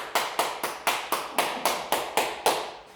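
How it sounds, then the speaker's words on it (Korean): Students in a classroom give another round of unison clapping, about ten sharp, evenly timed claps at a brisk steady pace that trail off at the end. "다시 한번 박수"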